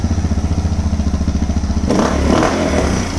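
Suzuki DR650 motorcycle engine idling after performance tuning, a close, loud, steady single-cylinder thump that briefly revs up near the end.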